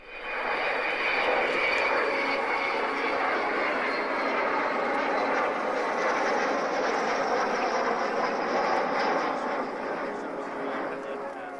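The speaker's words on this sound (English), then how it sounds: "we'll get back to the sounds of the aircraft in a second" Aircraft engine drones loudly and steadily, a dense, continuous roar that holds for the whole stretch and eases only slightly near the end.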